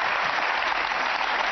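Studio audience applause during an Italian political talk show, a steady dense clapping wash that fills the whole short stretch without a break.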